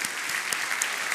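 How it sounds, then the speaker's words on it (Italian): Audience applause at the second evening of the 24th Avezzano festival in 2018, honouring young performers. A short burst of steady, dense clapping from a crowd, fairly loud and with nothing else over it. "Un applauso intanto a questi ragazzi che comunque hanno già dato"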